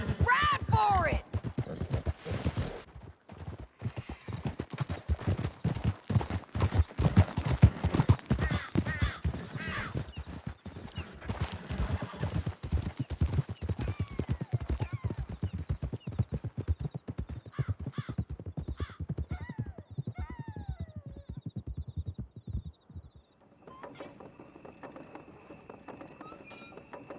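Horse hooves gallop in Red Dead Redemption 2, a steady, loud clip-clop running most of the way with occasional whinnies, then giving way to quieter ambience near the end.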